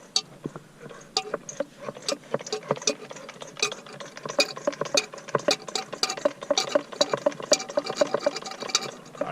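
Gear oil being hand-pumped into a Nissan R31 gearbox during a manual conversion: dense, irregular wet clicking and squelching, steady throughout and close by, with no talking.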